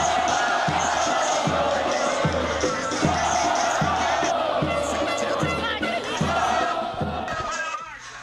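A large crowd of fans in Pato Branco welcomes the Pato Futsal team home after a second straight championship, chanting and cheering loudly and continuously over a steady pounding drum beat.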